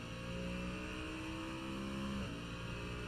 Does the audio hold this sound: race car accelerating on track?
yes